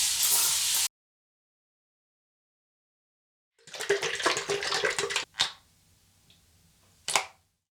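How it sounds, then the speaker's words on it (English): Cold tap water runs and splashes in a sink as alum is rinsed off a freshly shaved face. A short burst of flow is followed by silence, then a longer stretch of rinsing and two quick splashes. "wash off the alum with cold water"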